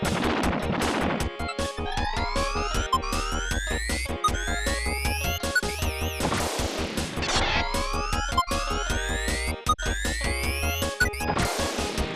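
Explosions erupt as mechs are hit in the video game Battle Clash: loud synthetic blasts and rapid crunchy impacts repeat at intervals over busy, sweeping game music, with no voices.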